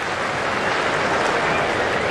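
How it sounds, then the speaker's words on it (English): A crowd cheers a thick outside edge racing to the boundary during an England vs New Zealand cricket Test, a steady broad roar of applause and noise sustained throughout with no talk. "Big cheer as the thick outside edge takes the ball to the boundary."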